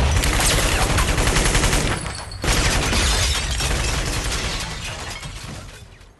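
Heavy gunfire erupts in a dense, continuous barrage of rapid shots and shattering impacts, loud and close, pausing briefly before the volley resumes and slowly fades.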